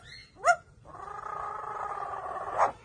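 A pet parrot voices a dog imitation: a short yelping note, then a long, steady, nasal, buzzing tone, and a brief sharp yip at the end, moderately quiet and alone.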